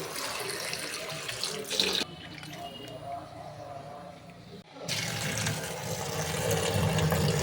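Jujube fruit washed under a running kitchen tap, a steady rush of water that drops away for a few seconds and then returns close and full. Voices are faintly present.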